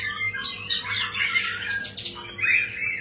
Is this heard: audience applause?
no